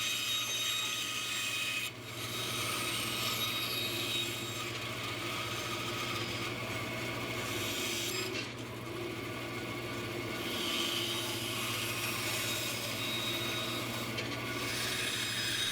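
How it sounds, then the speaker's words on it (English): A bandsaw cuts the skull shape out of an epoxy crow, giving a steady low motor hum under a rough grinding rasp, with brief pauses as the piece is repositioned. "We'll use the bandsaw to pull in close to our draw lines."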